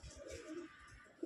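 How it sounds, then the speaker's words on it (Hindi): Mira-breed pigeons coo softly in a short, low, rolling burst, faint and close, with no talk over it. "ये आप शौक कर सकते हो मीरा वाले कबूतर हैं ये"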